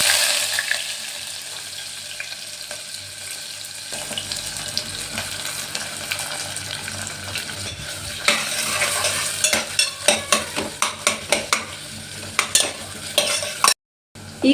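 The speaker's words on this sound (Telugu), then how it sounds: "ఒక 2 మినిట్స్ని బాగా ఫ్రై అవ్వనిద్దాము." Onions and green chillies fry in oil with cumin seeds in a pan, a steady loud sizzle overlaid later by a run of clattering stirring strokes before a brief cut to silence.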